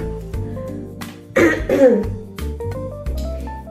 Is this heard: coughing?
yes